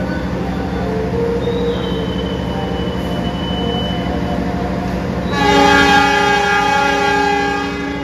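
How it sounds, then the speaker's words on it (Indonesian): The Malabar passenger train rumbles steadily nearby at Kebumen station, Indonesia, wheels grinding and squealing, then a loud multi-tone horn blares as it departs. "Ini mau berangkat lagi sepertinya kereta api Malabar karena udah dari tadi datang di stasiun Kebumen"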